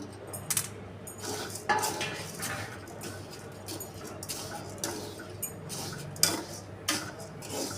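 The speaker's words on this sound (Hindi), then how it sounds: "लगातार चलाते रहेंगे, जैसे हमने ये भूने वैसे ही इन्हें भून लेंगे।" Wheat grains being stirred while roasting in a pan to make jaggery puffed wheat, giving a run of scraping, clattering stirs and light taps at close range, with no talking.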